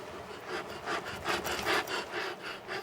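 A chisel carves a rare stone by hand in close, rhythmic scraping strokes, about six or seven in a few seconds, with no voices.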